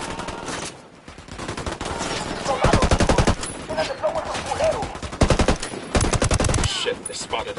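Automatic gunfire in the Ghost Recon Wildlands video game, loud repeated bursts of rapid shots with short gaps between them and a few game voices underneath.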